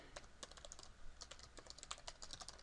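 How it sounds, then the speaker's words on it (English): Quick, light keystrokes patter on a computer keyboard as an email address is entered into a web login form, a close, quiet run of taps in a hushed room with no talking. "So I'm going to type in my email address."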